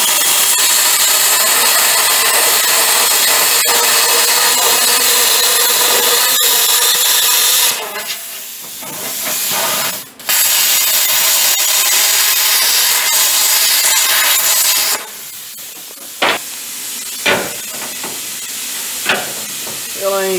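A power tool trims a wooden frame into an oval, its loud continuous grinding rasp running for several seconds, then easing into intermittent bursts with sharp clicks and knocks as the cutting stops and restarts.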